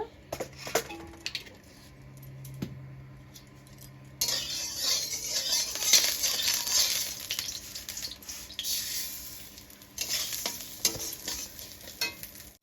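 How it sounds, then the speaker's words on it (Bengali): Mung dal frying in a little oil in a kadai over low flame: a quiet stretch with light stirring gives way to a steady, loud bright sizzle with scraping that runs on and fades briefly near the end. "মুগ ডালটা আমি ভেজে নেব, একটু কড়াইতে একটু তেল দিয়ে নেব।"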